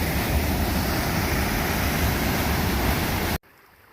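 A loud, steady roar of a massive, snow-fed river on the Pacific Crest Trail between Lone Pine and Bishop, broad and constant like a fast river, then cuts off abruptly near the end.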